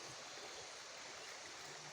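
A river runs below farmland in a rural area, a steady, faint rushing of flowing water heard from a distance with no voices over it.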